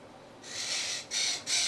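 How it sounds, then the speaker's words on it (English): A pet bird indoors lets out three harsh, loud screeches in quick succession, each a broad rasping burst, close to the listener with no talk. "can you take your toy over here so the bird stops screaming, please?"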